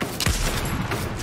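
Gunfire in Fortnite: a short, loud burst of a few sharp shots within about a second, close by and heard alone.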